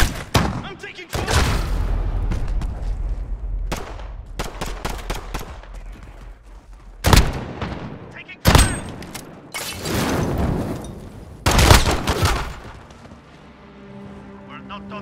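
Multiplayer firefight in Call of Duty Modern Warfare: bursts of automatic gunfire and heavy explosive blasts, loud and close, with sharp gaps of silence between volleys and a soldier voice calling out amid the combat.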